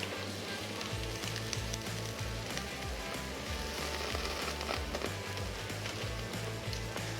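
Pork belly and beef sear on a hot plate grill, a steady close-up sizzle and crackle with a low rumbling hum running underneath throughout.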